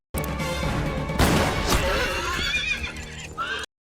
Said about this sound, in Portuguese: De repente, Ruth aparece galopando em seu cavalo